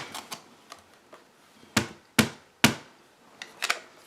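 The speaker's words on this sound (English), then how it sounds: "We're going to stamp it on the paper." A rubber stamp pressed onto paper during a card-making masking technique, a series of sharp dry taps and thumps, irregularly spaced with three louder close impacts among softer ones, no talking.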